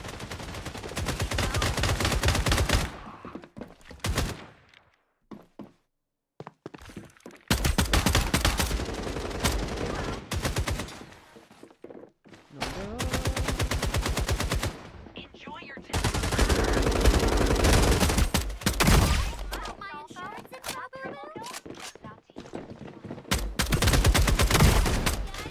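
Rapid bursts of gunfire from a shooter video game, including sniper shots, ring out in loud clustered volleys separated by short silent gaps.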